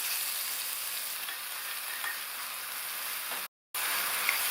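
Green chillies and small shallots sauté in hot oil for a coconut milk gravy with mushrooms, giving a steady close sizzle with a brief gap near the end.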